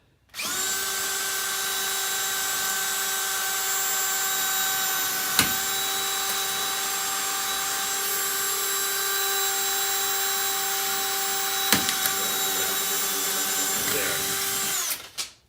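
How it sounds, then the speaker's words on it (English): Power drill bores steadily through a hard drive clamped in a vise, a sustained high whine with a constant pitch running about fourteen seconds, broken by a couple of sharp clicks before stopping abruptly. "the best way to do that is to drill a hole in it"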